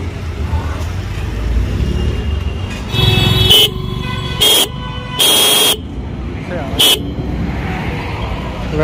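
Dual horn fitted to a Suzuki Burgman scooter sounds in four loud electric honks of varying length, two long and two short, over a steady noisy background.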